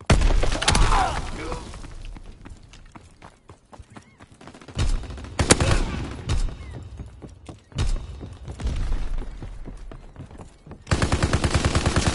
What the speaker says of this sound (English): Strafing run inbound.